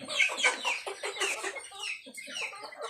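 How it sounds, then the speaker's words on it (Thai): A Thai fighting rooster clucks close up in a rapid, busy series of throaty calls, with a brief pause before it resumes. "แนะนำนะครับ ไก่ชนนะครับ คุณภาพดีที่มุกดาหารนะครับ"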